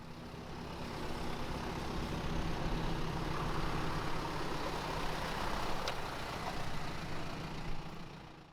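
A Toyota Mega Cruiser moves slowly through a low-speed four-wheel-steering turn in a museum parking lot, its engine a steady moderate rumble heard from a short distance without talk.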